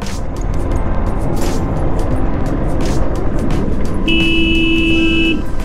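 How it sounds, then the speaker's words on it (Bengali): A car overtakes on a rough, badly surfaced mountain road in South Sikkim, heard as a steady, loud road and engine roar from inside a moving vehicle, with a sustained horn toot near the end. "এই তো ওভারটেক মারছে।"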